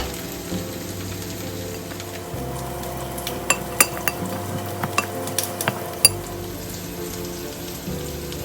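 Coconut roti dough for Sri Lankan pol roti being mixed by hand with grated coconut, red onions, green chilies, curry leaves and salt, giving soft stirring and rubbing with scattered sharp clinks against the bowl, steady and close, without talking.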